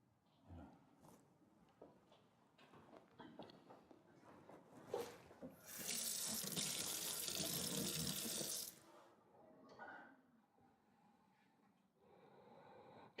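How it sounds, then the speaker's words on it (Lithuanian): Water gushes from a tap into a sink for about three seconds as a loud, steady rush, with quieter rustling and handling sounds before and after. "Yra čiaupas."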